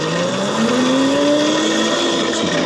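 An electric dirt bike rated for about 50 mph accelerates toward top speed, its motor whine climbing steadily in pitch over rushing wind noise, close and continuous.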